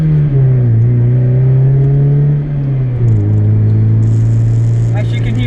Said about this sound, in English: As you can hear, the car is pretty loud.